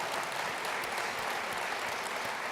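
A conference audience at Ellucian Live 2016 in Denver applauds with steady, dense clapping throughout, heard at a moderate distance with no voices over it.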